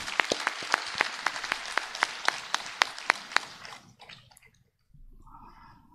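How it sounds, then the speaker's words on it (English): An audience claps in a steady, ringing run of sharp hand claps at a founder's day celebration as a bouquet of flowers is offered to a bishop, then the clapping fades out into quiet room sound with faint stray noises. "With a big round of applause"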